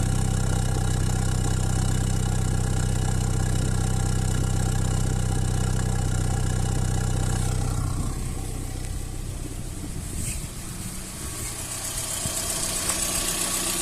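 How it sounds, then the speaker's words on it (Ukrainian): A 1.2-litre Slavuta car engine with a Solex 21081 carburettor idles steadily and evenly when warm, a continuous low hum with no stumbles, slightly quieter toward the end. "двигун стоїть рівненько і немає якоїсь нестабільної роботи"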